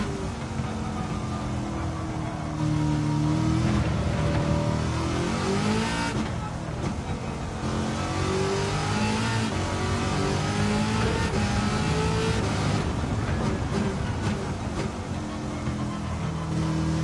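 A race car engine revs continuously in Gran Turismo 7, a loud steady engine note rising and falling through gear changes over the whole stretch, with no talking.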